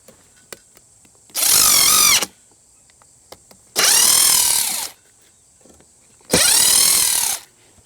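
A cordless impact driver drives a screw in three loud, close bursts of about a second each. Each burst is a hammering whine that climbs in pitch, separated by short pauses with faint handling noise.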